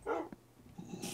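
A pet puppy in a blocky survival video game lets out a short, loud yelp-like bark near the start, then a fainter bark and softer whimpering noises, ending in a brief hiss.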